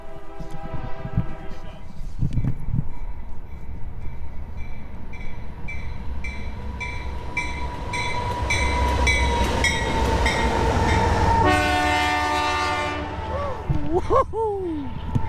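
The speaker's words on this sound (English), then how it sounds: "That's a train coming." A freight train, not the Sounder commuter train, rumbles past in Tacoma with clanking wagons and rhythmic rail noise, and a long horn blast sounds near the end while people talk and cheer over it.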